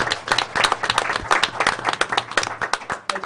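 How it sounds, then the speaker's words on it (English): A board of education meeting audience applauds Zoe, a moderate room of individual hand claps heard close, with distinct sharp claps forming an uneven, slightly sparse rhythm. "Another round of applause for Zoe."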